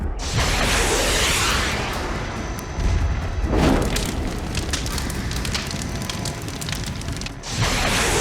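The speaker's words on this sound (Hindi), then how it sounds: "एक और सोल्जर मिसाइल लॉन्चर से फायर करता है और चंद सेकंड में टैंक के चीथड़े चीथड़े हवा में उड़ जाते हैं" A Javelin missile fires from a shoulder launcher and destroys a tank in a loud roaring blast with crackling fire, followed by further rushing bursts and booms.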